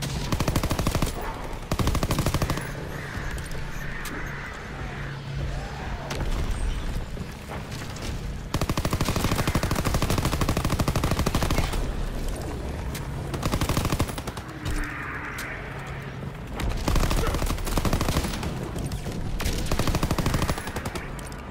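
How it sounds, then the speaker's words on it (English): Sustained automatic gunfire from Call of Duty WWII zombies mode, dense rapid bursts with booming impacts filling the whole stretch, loud and continuous without talk. "Yeah, we gotta shoot that thing more."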